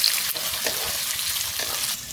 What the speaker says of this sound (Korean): 양파는 살짝만 볶아주세요.